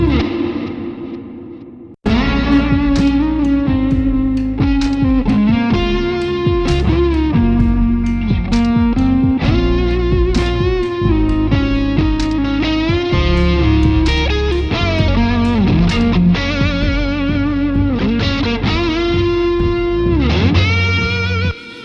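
Distorted, effects-laden electric music plays loudly and continuously after a brief quieter start, drenched in lush Lexicon reverb and chorus-like shimmer.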